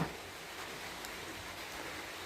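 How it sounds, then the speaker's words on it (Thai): Steady rain falling outdoors on a rainy day among potted caladium plants, a continuous soft hiss with even loudness throughout and no voices. "ตอนนี้ฝน ตกยังไม่หยุดเลยค่ะ"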